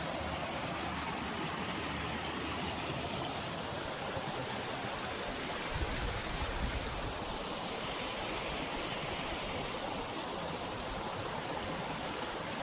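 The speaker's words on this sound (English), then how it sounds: "This is Cold Creek." Cold Creek flows in a steady, broadband rush of moving water, constant and fairly quiet throughout with no voices.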